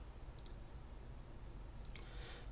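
Two quick pairs of small, faint clicks, one early and one near the end, from fingers pressing number buttons on a TI calculator in an otherwise quiet room.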